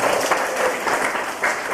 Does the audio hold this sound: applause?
yes